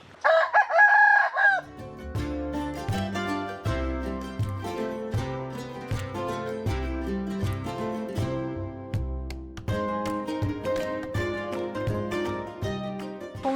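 A rooster crows loudly at the start on Doi Suthep near Chiang Mai, followed by steady instrumental music playing throughout.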